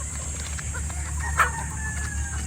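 Growing chicks out on a free-range poultry station give faint clucks and a brief call, sitting low beneath steady outdoor background hum.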